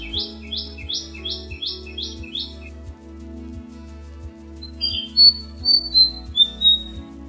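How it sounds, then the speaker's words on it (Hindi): Birds in the hill town of Chakrata: a quick run of six or so bright chirps, then a few clear whistled calls, over a steady low rhythmic hum. "और पक्षी जैसे मुहैया करा रहे हैं बैकग्राउंड म्यूजिक।"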